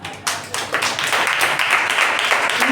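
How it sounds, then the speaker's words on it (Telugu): Loud, steady hand clapping in praise during a Telugu Christian worship service, a dense run of claps continuing for a few seconds. "పరిశుద్ధాత్మ దేవునికి గట్టిగా చప్పట్లు కొడతాను"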